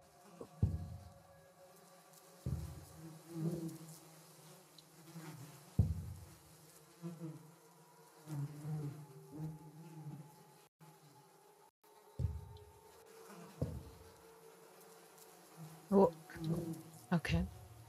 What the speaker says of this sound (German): Fliegen, weil hier irgendwo eine Leiche ist